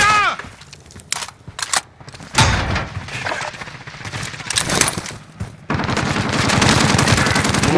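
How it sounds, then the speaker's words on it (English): Rapid bursts of automatic gunfire and single shots crack through a firefight in the video game Warzone, loud and dense, with sustained machine-gun fire toward the end. "I'm taking fire!"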